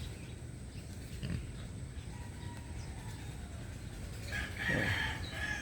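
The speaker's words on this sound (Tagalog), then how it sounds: "May manok tayo doon. Ang ganda." A rooster crows on a farm with native pigs, the call rising near the end over a low, steady outdoor background with faint grunting and clucking.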